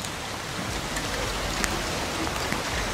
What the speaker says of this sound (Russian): Уже как 2 часа идет дождь, моросящий дождь, не ливень.